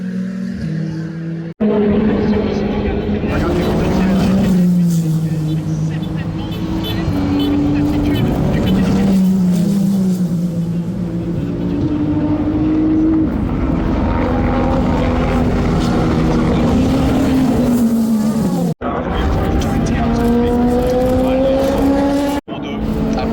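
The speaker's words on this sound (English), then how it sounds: "I got some really clean shots of the cars driving by" Race cars pass by on a racing circuit, loud engine tones rising and falling as several cars sweep past in turn, with brief gaps between passes.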